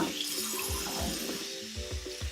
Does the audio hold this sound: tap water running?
yes